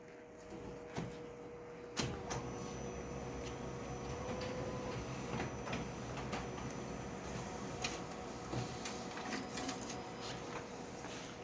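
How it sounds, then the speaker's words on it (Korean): A Fuji Xerox DocuCentre IV C2263 colour copier runs steadily while printing a colour chart, giving a continuous mechanical whir with faint tonal hums and occasional clicks and clunks, heard alone. "프린터 레포트를 출력을 할 건데요."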